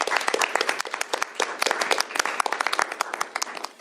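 A crowd applauds at a governor's bill signing, a dense burst of many hands clapping at steady loudness from start to end, fairly close and with no talk over it.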